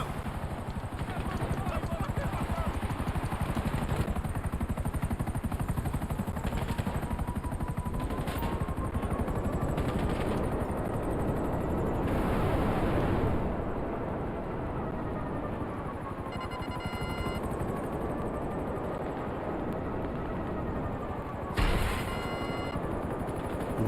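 Oppressor missiles firing in GTA 5 Online, with repeated launches and whooshing blasts over a steady engine-like drone, plus a few louder bangs, running continuously beneath a talking voice.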